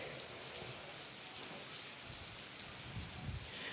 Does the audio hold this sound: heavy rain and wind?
yes